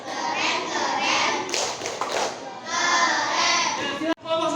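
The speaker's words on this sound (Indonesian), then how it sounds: "Tepuk keren untuk kelompok 4" Schoolchildren in a classroom perform a rhythmic group clapping cheer, chanting together between bursts of claps. The sound is loud and close, with lively young voices throughout.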